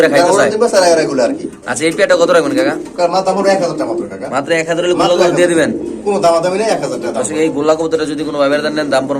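A blue satin pigeon gives repeated low, rolling coos, close by and mixed with people talking loudly over it.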